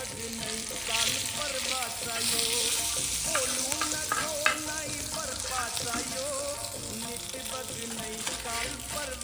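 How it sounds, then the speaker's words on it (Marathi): Three bagda prawns fry in hot oil, giving a steady, close crackling sizzle with bursts of popping spatter that runs unbroken throughout. "आपण 3 बागडे फ्राय करायला टाकले"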